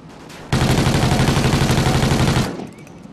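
Sustained automatic gunfire in a first-person shooter video game, a loud, dense two-second stream of rapid shots that stops abruptly, heard close with no talking over it.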